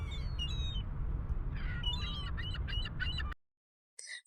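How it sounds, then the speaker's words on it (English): Seagulls squawk over heavy wind-like rumble, with harsh cries growing into a rapid string of calls before cutting off, then a brief final squawk after a gap. "Seagulls."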